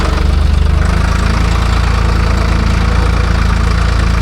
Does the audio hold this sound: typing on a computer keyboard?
no